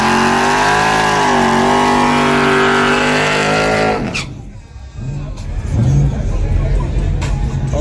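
Truck engine at a drag race at night, a loud sustained roar with rising rev harmonics that cuts off abruptly midway, leaving crowd murmur, rumble and a brief second engine burst.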